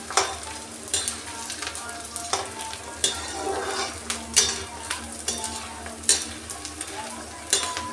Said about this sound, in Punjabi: ਬੂੰਦਾਂ ਭੁੱਜ ਗਈਆਂ ਵਾ